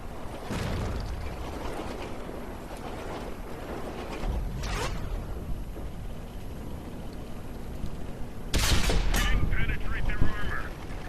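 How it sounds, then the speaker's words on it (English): The main gun of a KV-4 heavy tank fires in World of Tanks on Xbox, sounding as roughly four loud, booming blasts spread across the stretch, with two close together near the end. A steady rumble of engine and battle ambience runs underneath. "Just keep the gun firing, I suppose"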